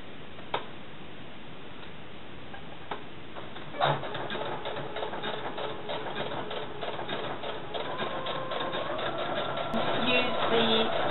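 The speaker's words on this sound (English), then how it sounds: "Just sew it on along the edge in black thread." Sewing lace onto a dress edge with black thread, a sewing machine whirring in a steady, rapid ticking rhythm that starts a few seconds in and runs continuously, fairly close.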